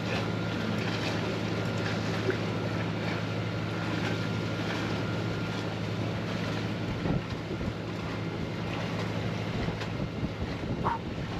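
Strong wind roars steadily across the microphone aboard a sailboat, with a constant low rumble and faint water sounds beneath, no talking.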